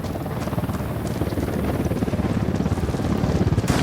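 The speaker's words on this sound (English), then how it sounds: "Chopper's approaching." A helicopter approaches in the video game Ghost Recon Wildlands, its rotor thumping in a fast steady pulse that grows louder and closer over a dense low drone.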